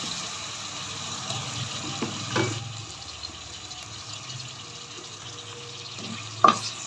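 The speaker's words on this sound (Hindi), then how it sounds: "मीट को इतनी देर तक हम भूनेंगे कि इसका कलर चेंज हो जाए।" About 300 grams of small boneless meat pieces fry with onions in a pan, a soft continuous sizzle with faint scrapes and stirring knocks and one sharp clink near the end, no voices.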